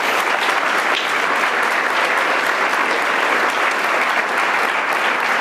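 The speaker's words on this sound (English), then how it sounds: "So we got to applaud that." Sustained audience applause at a community lifelines program, a dense, steady wash of many hands clapping at even loudness throughout, with no talk over it.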